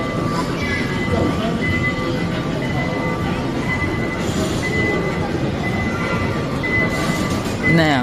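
A ride-on kiddie train at an indoor outlet rumbles steadily with constant low clatter and occasional high metallic squeals; voices are faintly present under the noise.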